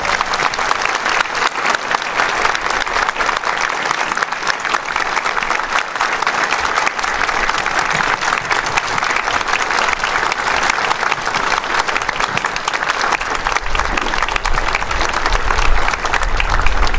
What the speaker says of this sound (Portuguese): vamos acolher o nosso novo pároco, Padre Antônio Lopes, com a salva de palmas.